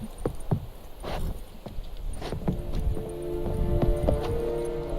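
Horse hooves in The Witcher 3: Wild Hunt, a steady rhythmic clip-clop of a ridden horse at a brisk pace, close and fairly clear over a soft ambient game backdrop.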